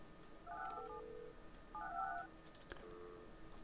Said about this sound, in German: Telefonleitung.